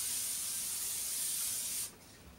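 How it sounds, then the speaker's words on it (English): A steady aerosol hiss from a can of olive oil cooking spray aimed at a pan lasts about two seconds, then stops abruptly, leaving a quiet room. "I'm gonna spray the bottom of my pan."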